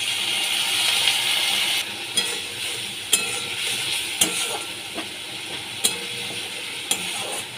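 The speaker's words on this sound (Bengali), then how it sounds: "ভালো করে কষিয়ে নিচ্ছি" Spices with salt, cumin powder and a splash of water being sautéed for a potato and pea curry, with a steady loud sizzle and hiss and a spoon scraping and knocking against the pan at regular intervals.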